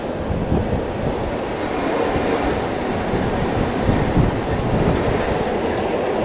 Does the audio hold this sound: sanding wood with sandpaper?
no